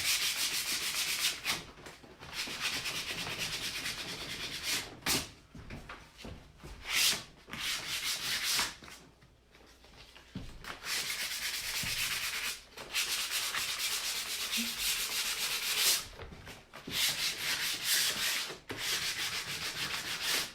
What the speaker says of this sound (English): I'm just going to sand over it